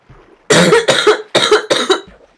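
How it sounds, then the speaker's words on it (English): A man's bad cough, a fit of four loud, harsh barking coughs in quick succession, very close and alone. "Got a real bad cough right now."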